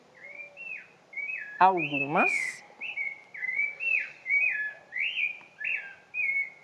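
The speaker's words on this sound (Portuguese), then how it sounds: "Estamos ouvindo o canto da sabiá, que já iniciou aí." A sabiá thrush sings a series of clear, repeated whistled phrases in a steady rhythm, close and fairly loud, while a voice speaks briefly over the song near the start.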